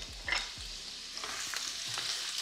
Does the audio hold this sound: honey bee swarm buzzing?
no